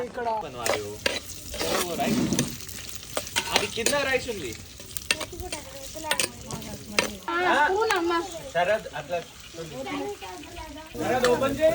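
Boiled goat tripe (boti) being stirred into masala in a pan during a farm Sankranti festival cook, wet scraping and sizzling up close while a voice talks over much of it.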